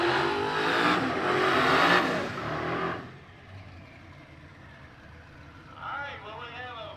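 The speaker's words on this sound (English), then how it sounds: "we have a nitrous Mustang or a turbocharged 57 Chevy going on to the next round" A nitrous Mustang and a turbocharged 1957 Chevy race at a drag strip, with a loud roaring pass fading away over three seconds, then quieter crowd murmur and a voice talking near the end.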